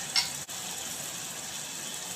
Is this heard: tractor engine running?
no